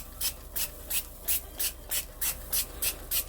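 Nine or ten short hissing bursts from a spray bottle misting oil onto vegetables, evenly spaced and fairly close, in a quick steady rhythm.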